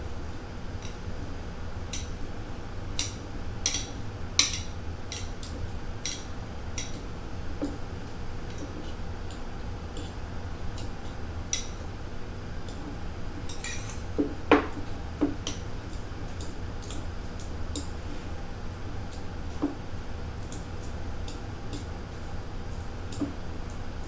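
A fork mashes strawberries into chunks, making quiet, sparse clicks and taps against the bowl with soft squishing between them, all faint and spread across a long stretch.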